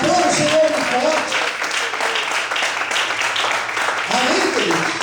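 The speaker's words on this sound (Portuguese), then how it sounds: "Aplauda o Senhor muito forte." A church congregation claps loudly and continuously, the dense applause joined by a voice speaking over it at the beginning and again toward the end.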